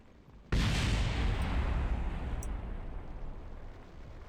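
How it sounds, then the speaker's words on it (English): A rocket's heat shield exploding during reentry in Kerbal Space Program: one sudden loud blast followed by a long, roaring rumble that slowly fades, with no voices. "I'm assuming this is going to explode pretty soon."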